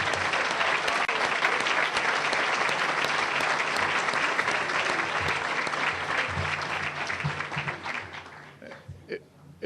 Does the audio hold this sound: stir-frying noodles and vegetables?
no